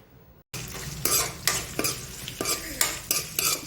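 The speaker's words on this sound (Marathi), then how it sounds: "हे बटाट्याचे अशा काचऱ्या केल्या पातळ पातळ फोडणीत टाकू" Thin potato slices sizzle in a hot oil tempering for fasting-day sabudana khichdi, a close continuous fry punctuated by about eight sharp, rhythmic scrapes and clinks of a spoon stirring against the pan, with no talk.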